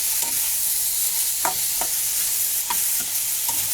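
Green chilli frying in Amul ghee while being stirred, a steady bright sizzle with a few sharp spatula scrapes and pops rising over it, close and continuous.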